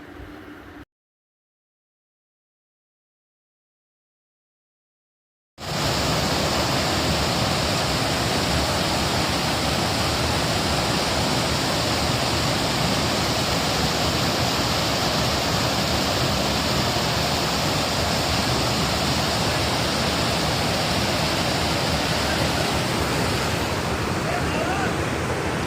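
Floodwater flows under the Gollapalli railway bridge, a steady, loud rushing roar that starts after a few seconds of silence and carries on unbroken.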